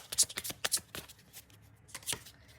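Tarot cards are shuffled by hand in a quiet room, producing a few brief, close riffling and flicking bursts in uneven clusters, with soft background sounds between them.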